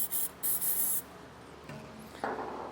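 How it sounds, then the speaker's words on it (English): Lubricant spray aimed at the rubber exhaust hanger isolators under a 2025 Mazda during a hitch install, in short close hissing bursts: two quick sprays, a longer one, then quieter handling sounds and a softer final spray. "what I like to do is just spray a little bit of lubricant on there"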